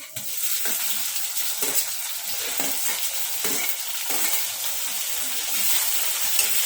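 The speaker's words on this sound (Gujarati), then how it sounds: "પછી આપણે ટામેટાં નાખશું." Tomatoes added to a hot pan for green pigeon pea dal, frying with a steady sizzle while a spoon stirs and scrapes in repeated strokes, close and without talk.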